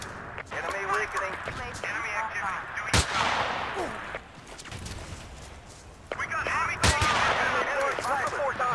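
Two sharp, loud M24 sniper rifle shots ring out a few seconds apart in multiplayer Battlefield 2 on the Strike at Karkand map, over constant radio chatter and game voices.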